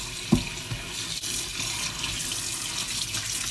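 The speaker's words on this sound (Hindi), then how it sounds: "अब इसको साथियों अच्छी तरह धो लेते हैं।" Sliced potatoes are washed under running water in a kitchen sink, a steady close stream of tap water with a small splash near the start and faint handling throughout.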